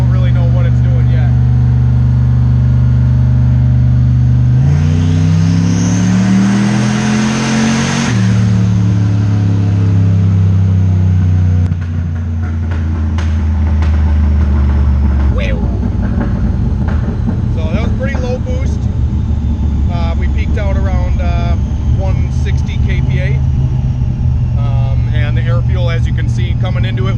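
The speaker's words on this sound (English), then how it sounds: "Once it started running up and getting some RPM in it and some more boost, it started going a little richer." A turbocharged 6.0 LS V8 in a Buick Regal Grand National roars on a dyno, climbing in pitch through a loud sustained rev, dropping back, then droning steadily at high load, with someone talking over part of it.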